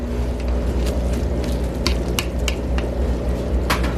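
Shrimp sizzle in a pan of creamy garlic sauce, a steady close frying crackle over a low stove rumble, with a few sharp clinks from stirring and no talking.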